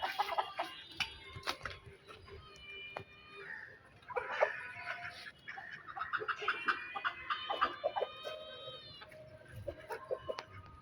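Backyard chickens, hens and roosters, clucking and calling repeatedly at close range, with overlapping bursts of cackles and drawn-out calls over a quiet outdoor background.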